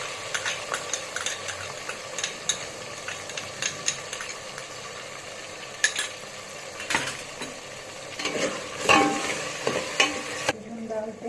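Curd stirred into a sizzling biryani masala in a pan, with steady frying hiss and repeated scraping stirs and spoon clinks up close, ending abruptly in near quiet.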